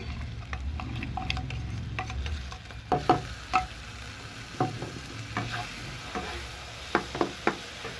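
Spices with chilli powder, cumin powder and sour yogurt fry in a pan for a fish curry, a soft steady sizzle under scattered clicks and scrapes of a spatula stirring, close and fairly quiet.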